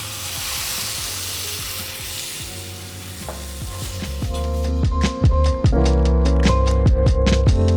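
Floured beef for a bœuf bourguignon sizzles in a pan as it is deglazed. A steady frying hiss builds louder partway through, joined by scraping and clattering stirring sounds.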